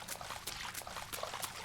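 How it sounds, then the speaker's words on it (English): Watery splashing sound effects from a top-down action adventure video game come in repeated short bursts at a steady rhythm, with no talk over them. "Splash."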